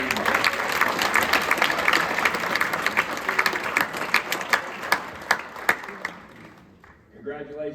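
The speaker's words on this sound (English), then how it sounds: "Let's give them a round of applause, please." An audience applauds students at a school signing day, with a steady wash of clapping that thins into a few sharp individual claps before fading, and a voice briefly heard at the end.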